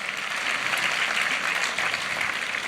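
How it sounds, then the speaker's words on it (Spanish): A church congregation applauds during a Spanish-language sermon, a continuous, fairly loud wash of clapping that holds evenly from start to finish. "Denle un aplauso al Señor"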